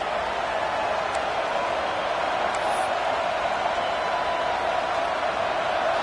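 Football stadium crowd at an FCS East versus Washington game, a constant dense roar of many voices filling the space, steady and loud from start to finish.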